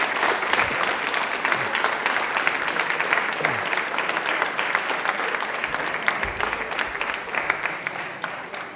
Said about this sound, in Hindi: तालियां बजा दीजिए एक बार जोरदार वाली